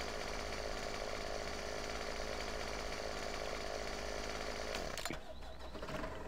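A chainsaw in the Farming Simulator 17 video game cuts a tree branch with a loud, steady whining buzz that lasts several seconds before it cuts off abruptly.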